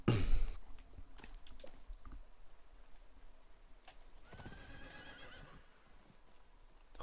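A horse in the Diablo 4 video game lets out a loud whinny at the start, followed by quieter hoof clip-clops and soft game ambience, with no talking.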